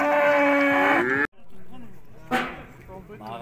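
Sheep and other livestock at the Urzhar animal market, with loud harmonic bleating calls up close, a sharp break, then more bleats and rustling amid the market's busy background.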